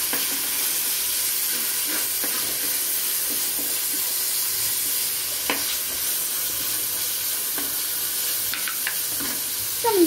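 Curry leaves dropped into hot oil for a kanava (squid) kuzhambu fry with a loud, steady sizzle that fills the whole stretch, broken by occasional pops and crackles close up, with no talk.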